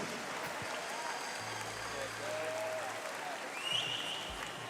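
Swimmers applaud the parents at the Kent County Swimming Championships, a sustained, even wash of clapping filling an indoor pool hall for several seconds, with a brief brighter squeal near the end.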